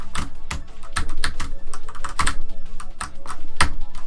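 Rapid, irregular clicking of keys on a computer keyboard during a speedrun of a platform game, loud and close with no voices.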